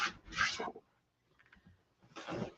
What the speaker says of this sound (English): So you just need to scrape off all of that.